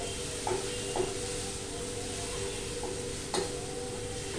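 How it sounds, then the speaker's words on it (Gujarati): Aloo palak with haldi, jeera powder and garam masala is being stirred in a pan over a soft sizzling hiss, with a few distinct clinks and scrapes of the spoon against the metal. "આને આપણે બરાબર મિક્સ કરી દઈએ"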